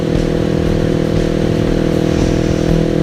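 Loud, steady motorcycle exhaust drone while riding, a constant low rumble with engine harmonics and no pauses.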